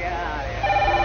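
A telephone rings loudly and continuously in a short burst, with its steady tone close and clear, and a voice speaks over it.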